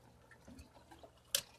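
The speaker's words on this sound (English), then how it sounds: "Let's stop the water moving for you." Water dripping in an aquaponics fish tank, with a faint low trickle of moving water and one sharp, close drip standing out near the end.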